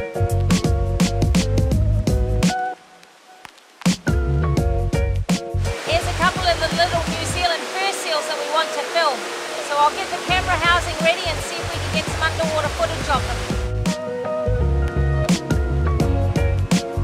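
A waterfall pouring into a pool at the head of a stream roars in a steady wash, while louder music plays over it at the beginning and end.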